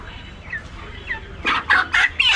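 Chickens cluck nearby at a market, with soft calls at first and then four loud, rhythmic squawks in quick succession.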